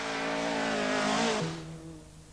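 A rally car from the 1984 Circuit of Ireland Rally, a loud close engine roar at sustained revs that drops in pitch as the car passes and fades into the distance.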